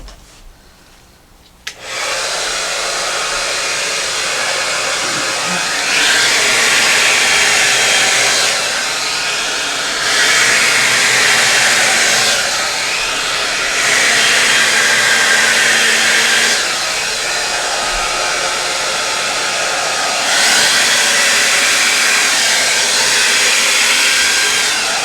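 A hair dryer switches on and blows steadily across acrylic paint in a Dutch pour, a loud, close, continuous whoosh that swells and eases as it is moved over the surface.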